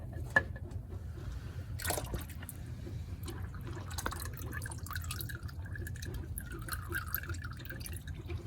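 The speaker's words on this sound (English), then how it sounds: "It looks like it stopped dripping" Motor oil drips from the oil filter of a 2023 Mazda CX-5 during an oil change, with faint, sparse drips and a light liquid trickle over a low hum, fairly quiet.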